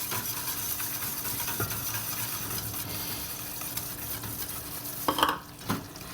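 Flour stirred into a sauce in a pan, a continuous soft scraping and sizzling hiss with a few sharper knocks of the utensil near the end.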